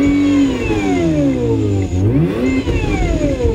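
A BMW E39 car engine revs up and down on its own, rising and falling pitch with a brief dip around two seconds, loud and close, with no talk over it.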